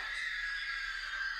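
A Lego Jurassic Park video game character lets out a sustained, high-pitched scream that holds steady and loud for its full length, with no talk over it.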